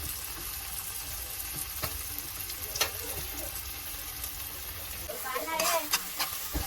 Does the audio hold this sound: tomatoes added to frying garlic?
yes